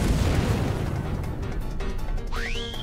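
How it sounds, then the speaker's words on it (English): Chicken exploding in the video game Skyrim: a loud, dense crashing boom that fills the clip, then a rising whistling tone near the end. "Can we kill Feindal using the splash damage of the chicken explosion?"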